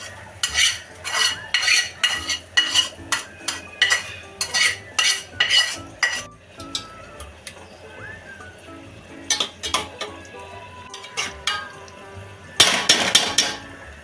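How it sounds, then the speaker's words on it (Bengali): Chicken with spiced masala being sautéed and stirred in a pan, a spoon scraping and clinking against the metal in repeated rhythmic strokes, close and moderately loud, with a faint sizzle underneath and no talking. "এবার একটু কষতে দিলাম"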